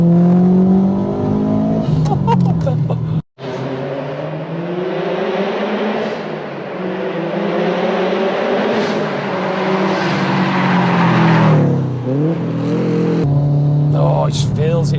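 A 456bhp 2.1 stroker Subaru Impreza WRX STI accelerating hard, its engine note loud and close from inside the cabin, revs climbing steadily through the gear with a brief break at a shift, a voice heard at moments.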